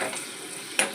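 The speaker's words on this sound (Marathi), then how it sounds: "आता आपण हा आपला पटॅटो जो स्प्रिंग पटॅटो आहे ना, त्याला आपल्याला फ्राय करायचा आहे" Spring potatoes fry in a pan with a soft, steady sizzle, quite faint, broken near the end by one brief clink of a utensil.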